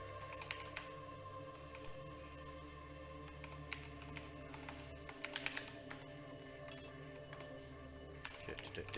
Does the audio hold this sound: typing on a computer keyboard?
yes